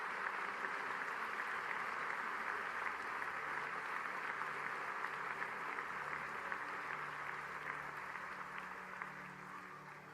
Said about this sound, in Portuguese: Quem pode dar um aplauso bem forte ao Senhor neste lugar?